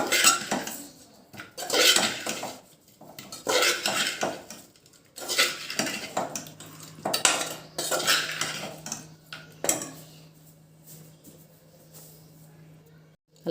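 A spoon scrapes and clanks against a pot while a paneer dum biryani mixture is stirred, with bursts of close metallic scraping and knocking separated by short pauses.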